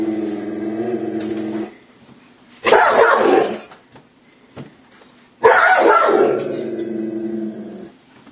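A Rhodesian Ridgeback being leashed because it is aggressive barks in two loud, close bursts. A lower whining or growling tone comes before them, and nobody speaks.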